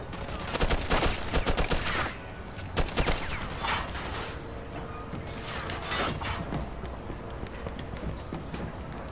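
Gunfire in the crime video game Mafia II, with bursts of rapid shots crackling in quick clusters, then trailing off into scattered reports over background game ambience.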